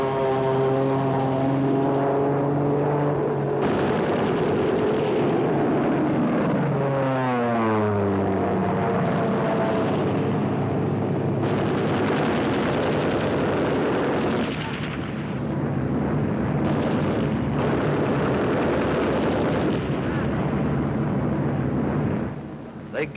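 A WWII P-51 Mustang strafing ground targets: its piston engine drones and shifts pitch as it dives in, then gives way to a sustained loud roar of gunfire and explosions.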